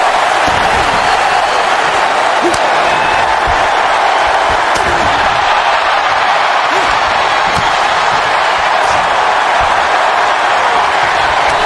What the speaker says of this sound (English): the crowd is chanting, this is awesome